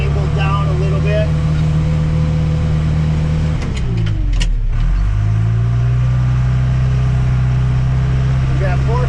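A tractor working on a tight site busting ice banks beside a skid steer: a loud, close, steady diesel drone whose pitch dips and then climbs back midway before settling into an even hum.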